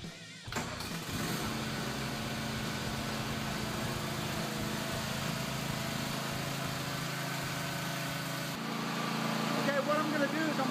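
A remote-controlled TRX42PRO mower's engine runs steadily inside a warehouse, a continuous mid-pitched drone that holds for the whole stretch and swells slightly louder near the end.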